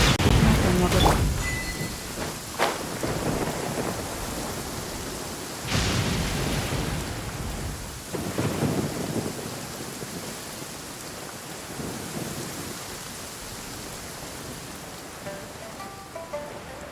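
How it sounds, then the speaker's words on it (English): Heavy downpour in the video game Genshin Impact: a steady wash of rain hiss across the whole stretch, with a few louder thunder-like bursts early on, under occasional talk. "Quite a downpour."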